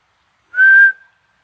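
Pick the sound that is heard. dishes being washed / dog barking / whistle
whistle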